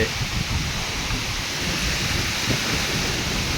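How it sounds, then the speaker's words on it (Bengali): A heavy storm roars steadily, with dense rain and gusting wind under a low, rumbling thunder throughout. "কি ঝড়টাই না হচ্ছে।"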